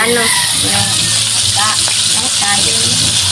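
Steady loud sizzling of chicken skin frying in a pan over high heat fills the clip, with a person talking over it.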